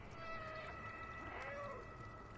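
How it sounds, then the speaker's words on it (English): A cat in the Stray video game meows with a few drawn-out, rising and falling cries, quiet and set over a low hum of ambient background noise. "I can meow still."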